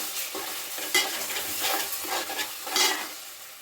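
Garam masala being stirred into a tomato egg curry frying in a pan: steady sizzling with a few scraping strokes of a spoon against the pan, close and alone, no talk.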